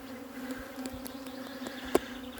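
A small swarm of honeybees buzzing at a hive, a steady close droning hum with a few louder individual bees passing near.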